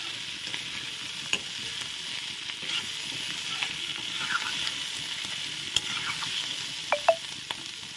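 Potatoes and bitter gourd frying in a pan, a steady, close sizzle with scattered small pops and light stirring clicks throughout, no voices.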